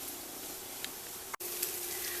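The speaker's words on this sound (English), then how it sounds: "we want to just brown the rice a little bit" Rice browning with onions and jalapenos in a hot pan for Spanish rice gives a steady, close sizzle with a constant hiss, one brief dropout midway and a few light stirring clicks.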